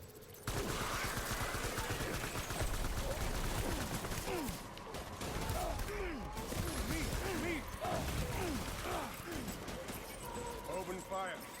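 Rapid bursts of gunfire and machine-gun fire rattle continuously through a battle in the video game Death Stranding, with voices speaking over the dense shooting.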